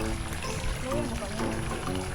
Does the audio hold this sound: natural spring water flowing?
yes